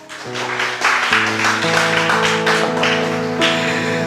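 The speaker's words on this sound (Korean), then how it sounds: "우리 한번 서로 박수하십시다" A church congregation claps for one another in a warm burst of applause over sustained organ or keyboard chords, lasting several seconds.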